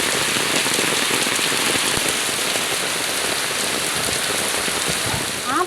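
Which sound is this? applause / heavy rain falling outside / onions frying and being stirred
heavy rain falling outside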